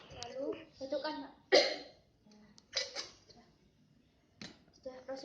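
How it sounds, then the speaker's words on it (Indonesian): A patient performs a deliberate effective-coughing exercise during a clinical procedure: a few short, sharp coughs and throat-clearing bursts between quiet breaths, close up, with some soft talk nearby. "lalu batukkan Pak."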